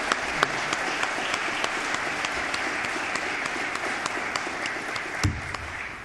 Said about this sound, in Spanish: brindémosle un fuerte aplauso a nuestro distinguido conferencista